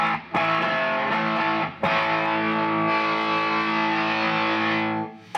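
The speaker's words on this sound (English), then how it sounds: "It's definitely a distortion pedal." Electric guitar through a Maxon distortion pedal, sustained saturated chords ringing thick and loud, briefly broken twice by restrikes, then a final chord fading out near the end.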